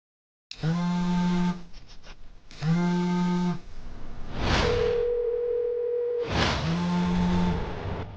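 A mobile phone call plays repeated tonal beeps in a steady on-off rhythm: two long buzzy tones separated by short pips, then a higher sustained tone amid broadband noise bursts, fairly close and clear.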